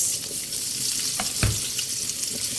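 Onions sizzling in a pan with already cooked garlic, a steady hiss with a couple of soft clinks of the utensil and no talk.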